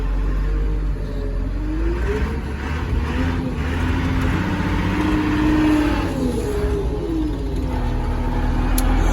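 A Cat IT28G wheel loader's engine held at wide open throttle in first gear, a loud steady drone with the pitch rising and falling as it pulls, close and continuous without talk.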